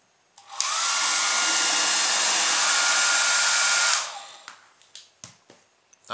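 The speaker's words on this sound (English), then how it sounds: "I've got my hairdryer to blow it along with." A hairdryer blows steadily for about three seconds to push a plastic bottle car across a kitchen, close and loud, then cuts off, followed by a few light knocks and taps.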